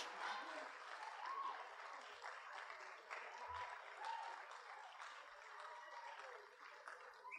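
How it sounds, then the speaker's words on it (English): Audience applause for performers at a high school WinterSing concert, a broad continuous wash of clapping from a large crowd, faint and steady, with scattered voices and whistles mixed in. "Applause to a performer for a job well done is just food for our souls"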